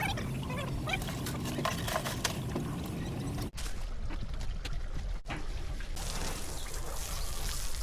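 Water sprays steadily and splashes against a speedboat hull during washing at sea. The noise stays broad and continuous, with a couple of brief interruptions and no talking.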